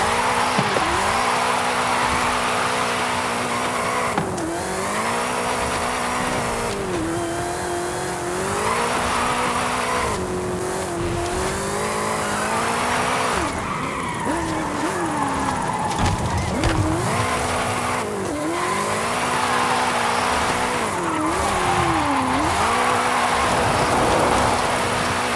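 A car in Forza Horizon 5 drifts continuously, tires squealing in long wavering screeches while the engine revs rise and fall, loud and sustained throughout without any speech.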